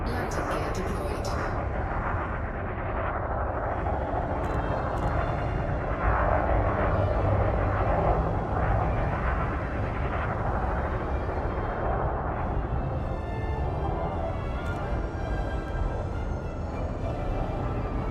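An airplane coming in to land with its landing gear down in a video game, a steady heavy engine rumble and roar running throughout, with a voice speaking over it.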